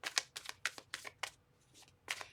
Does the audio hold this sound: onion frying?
no